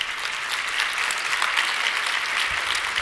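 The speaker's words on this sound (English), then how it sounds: "I'm glad you applauded" Sustained applause from a large audience at a women's commercial real estate convention keynote, a dense steady wash of clapping that stays loud throughout with no voices on top.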